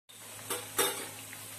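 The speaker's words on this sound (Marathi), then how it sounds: "तेल गरम झालेलं आहे, आता पुरी टाकून घेऊया।" A puri is dropped into hot oil for besan puri ladoo and starts a soft, steady sizzle close by, with two brief splashing bursts as it hits the oil and settles.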